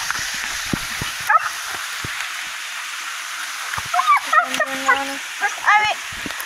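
Several dogs along a creekside path toward a waterfall bark and whine, with scattered yips and short whimpering cries mostly in the second half, over outdoor ambience and occasional talk.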